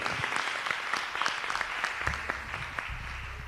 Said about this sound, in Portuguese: Quantos podem receber o servo de Deus com as palmas bem alegres,